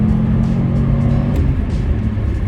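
A 2002 Subaru WRX STI with a 2-liter flat-four making 276 horsepower accelerates hard in fourth gear, giving a steady, loud, low engine drone heard from inside the car, with no speech.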